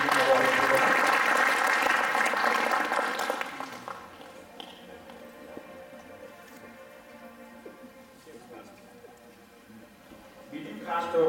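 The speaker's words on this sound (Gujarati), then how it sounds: "તો એમને પણ આપણે એક વખત તાળીઓથી વધાવી દઈએ બધા સિનિયર સિટીઝન" An audience at an IASCA program applauds senior citizens with a burst of clapping that fades after about three seconds. Quieter room sounds and faint talk follow, and a brief swell of clapping returns at the very end.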